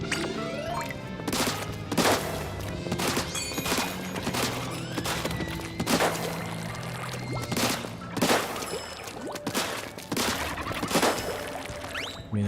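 Rapid weapon fire from the Splatoon video game, with repeated sharp bursts every second or so over a busy, continuous game soundscape of splashes and effects, with no voices.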